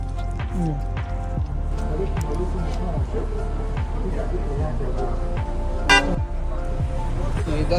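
Car horns honk on a busy street outside a shop, with several short toots rising over the steady traffic noise. People talk nearby at the same time.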